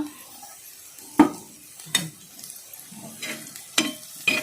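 Chopped onion sautéed in oil in a pan for a rustic peanut chutney, with a few sharp stirring scrapes and clinks over a soft, intermittent sizzle, close by.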